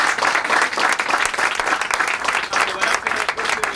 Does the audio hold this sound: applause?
yes